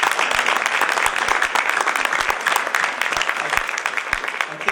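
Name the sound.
audience applause for the graphic artist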